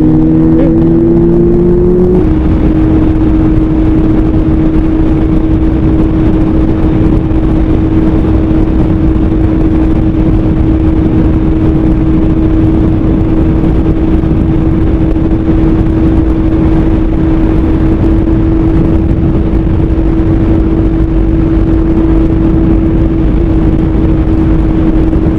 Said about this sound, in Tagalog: Lakas ng motor niya